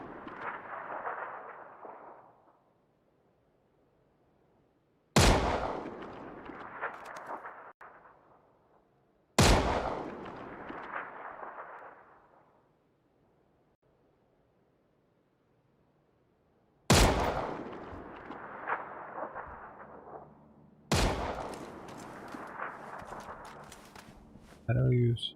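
Loud bursts of video game gunfire in several separate volleys, each a sharp crack followed by a decaying rumble, with near-silent gaps between them and a voice talking over parts of it.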